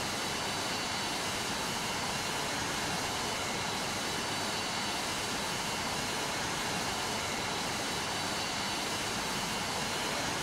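An F-4 Phantom jet in a flight simulator game drones steadily on the approach, a dense, continuous engine roar holding at an even level throughout with no talk.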